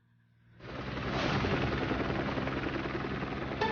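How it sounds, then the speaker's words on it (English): A helicopter's rotor roar starts suddenly and holds steady and loud, a dense thudding wash that stays close throughout. "A helicopter?"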